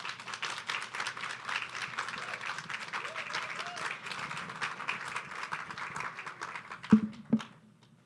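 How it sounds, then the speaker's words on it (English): An audience at a maternal and child health outreach event applauds the TSU debate team with steady, moderately loud clapping that thins out, ending in a couple of sharp knocks near the mic. "Please give a round of applause for the TSU debate team."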